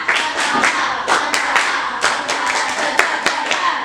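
A school class performs a rhythmic clapping cheer in a classroom, a series of loud, sharp group claps in a patterned beat with no talking.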